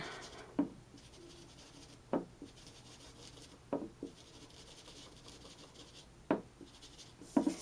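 Faint dry rubbing comes from colour being shaded onto the edges of die-cut paper, probably with a blending tool, in a quiet room. Several short scraping strokes are heard at irregular gaps.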